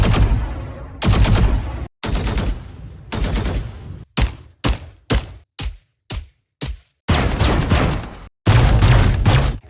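Rapid bursts of gunfire from several different guns in the video game Valorant, played one after another. Long sustained automatic volleys alternate with short sharp single or paired shots separated by brief silences, all loud and close with no talk.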